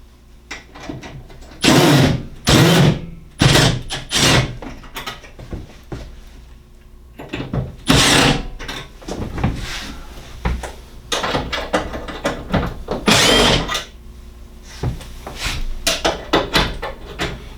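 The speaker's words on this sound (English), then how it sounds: "let's take the front cover off" Front cover being taken off a Navien NPE-series tankless water heater: a string of loud metal clunks, knocks and rattles in irregular bursts with short quiet gaps between.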